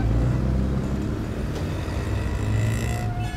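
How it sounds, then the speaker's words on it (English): Steady, loud road traffic in Bangalore, a continuous rumble of cars and other vehicles passing close by, with engine drone filling the whole stretch and no voices. "Traffic again. Talk about Bangalore traffic."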